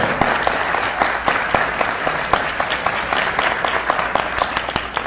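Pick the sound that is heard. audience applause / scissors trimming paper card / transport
audience applause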